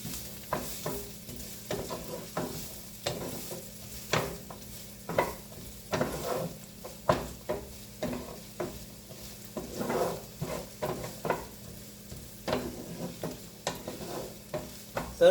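Homemade spaghetti sauce ingredients being stirred in a hot pan, with repeated scraping strokes of a utensil over a soft sizzle; irregular, close clicks and scrapes, no speech.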